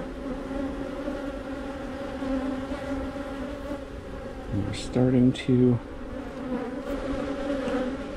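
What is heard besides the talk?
honey bees buzzing around an open hive frame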